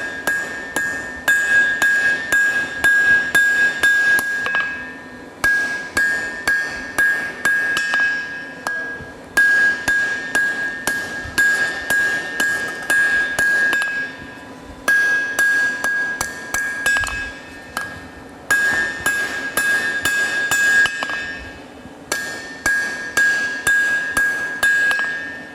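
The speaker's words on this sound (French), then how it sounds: "là je suis en train d'étirer le métal tout en laissant une partie ici qui va me servir pour faire le noyau de" Blacksmith hammering hot metal on an anvil to draw it out, leaving a section to form the core of a scroll: loud, rapid ringing blows in steady bursts with short pauses between runs, and a sustained metallic ring.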